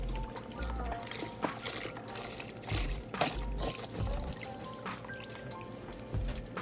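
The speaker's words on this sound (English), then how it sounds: "I'm going to add to this Dutch oven 2 cartons of chicken broth" Chicken broth pours steadily from a 32-ounce carton into a Dutch oven, a continuous close liquid stream with gurgling bursts and no talking over it.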